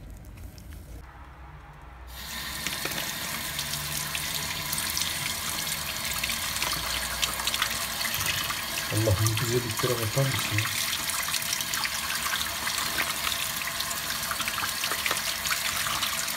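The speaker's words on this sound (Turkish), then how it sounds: "Sadece suyla temizliyoruz." Steady running water from a tap splashes continuously over quartz crystals in a sink, with a person speaking briefly over the flow.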